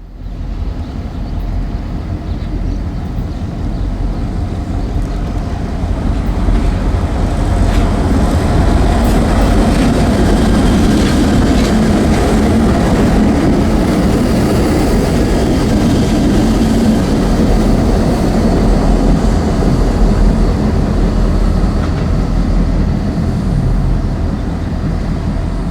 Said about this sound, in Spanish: Del sur llegan un par de GP38 que se llevaron el fierrero a una vía de escape.